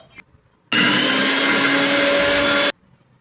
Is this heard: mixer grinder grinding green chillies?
yes